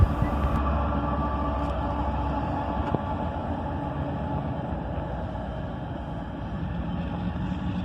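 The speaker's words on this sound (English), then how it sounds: "And there's that second locomotive, another ES44 ACH." CSX ES44AC diesel locomotive passing during local switching, a steady low rumble and engine drone with faint tonal hums, continuous and moderately loud, no voices.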